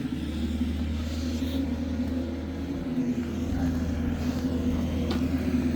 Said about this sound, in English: brake drum turns